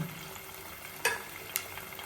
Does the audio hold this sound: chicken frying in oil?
yes